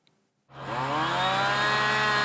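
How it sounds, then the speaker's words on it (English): A chainsaw starting up at a wetland preservation work site along the Mississippi River on a chilly morning, roaring in abruptly after a brief silence and then holding a loud, steady whine, with no talk. "Chainsaws, backhoes, wood chippers. They're all busy on a seasonably chilly morning along the Mississippi River"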